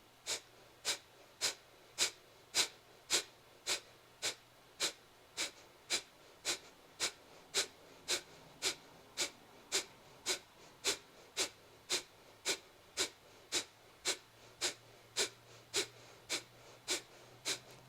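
Forceful yoga breathing from a single person up close: around thirty-five sharp, rhythmic nasal exhalations at a steady quick pace, each a short burst of air, with no talking.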